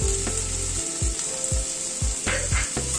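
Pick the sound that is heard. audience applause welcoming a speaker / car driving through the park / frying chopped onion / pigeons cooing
frying chopped onion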